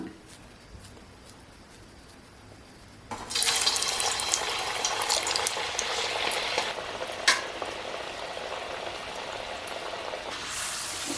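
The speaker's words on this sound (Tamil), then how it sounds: "எண்ணெய் நல்லா சூடாக இருக்குது ஒரு வடையை தட்டி போட்டு பார்க்கலாம்" Mango vada batter patted and dropped into hot oil, giving a sudden loud bubbling sizzle that starts after a quiet stretch and keeps crackling steadily, with a brief louder pop.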